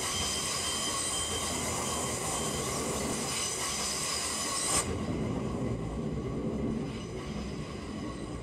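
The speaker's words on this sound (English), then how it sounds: "This train is of Six coaches." Class 170 regional train running in the Roblox British Railway game, a steady loud rumble of rail travel with wheel noise, shifting in character partway through, with no talk over it.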